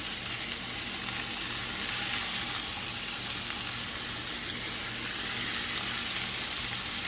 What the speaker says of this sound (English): throw these fillets down and hopefully hear them sizzle